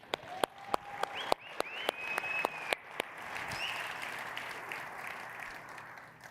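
An audience claps together at the 3DEXPERIENCE World 2025 conference: sharp individual claps at first, then a dense, steady wash of applause that holds evenly to the end without talk.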